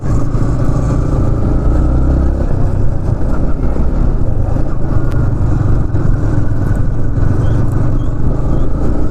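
A Yamaha MT15 motorcycle being ridden, its engine droning steadily and loudly up close with heavy wind rumble throughout, no voices.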